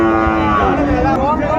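A big Sahiwal bull at a cattle market gives one loud, drawn-out moo close by, with faint market noise behind it.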